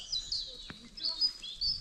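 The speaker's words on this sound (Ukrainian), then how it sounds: "Пташок слухаю." Small birds chirp in a spring forest: quick, bright high-pitched tweets repeating across the short stretch, fairly close, with a single soft knock and no talk.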